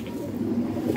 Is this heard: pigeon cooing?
yes